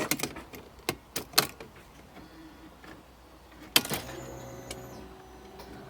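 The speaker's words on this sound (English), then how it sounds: "All right, hear fuel pump" Faint clicks and knocks, then a thin electric whir as a Hellcat fuel pump primes in a Mercedes CLK55 AMG with a swapped M113K supercharged engine, heard from outside the car.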